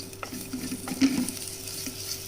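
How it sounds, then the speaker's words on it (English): Ginger paste sautéing in a pan, a low sizzle with a few brief stirring scrapes. "Once the ginger paste is sauteed well"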